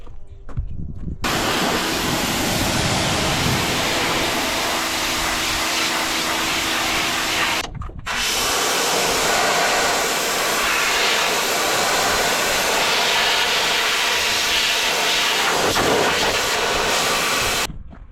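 A pressure washer blasts the degreased engine of a 1979 Chevy Suburban, a loud continuous hissing roar with a brief pause midway before the spray resumes and runs steadily to the end.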